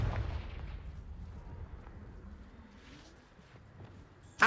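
Confringo fire spell blasting in Hogwarts Legacy, a loud booming burst at the start that rumbles and decays through the clip, with a sharp crack at the very end.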